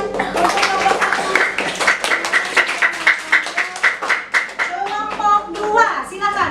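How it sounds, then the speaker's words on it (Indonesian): Fifth-grade children clapping in a classroom for a group after a science presentation: a loud, rhythmic patterned clap chant in unison, close by, with children's voices chanting along throughout. "Kasih tepuk tangan untuk kelompok 1."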